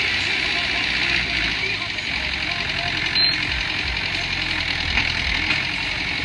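An old Mahindra tractor engine running steadily, a loud, close, knocking diesel chug that continues throughout.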